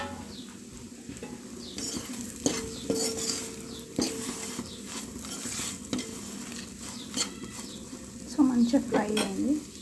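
Soya chunks frying in a pan under a continuous sizzle, with repeated spatula scrapes and metallic clinks as they are stirred, growing busier toward the end; close up and without speech.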